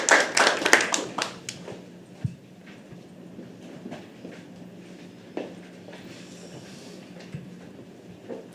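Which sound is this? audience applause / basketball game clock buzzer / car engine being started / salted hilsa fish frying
audience applause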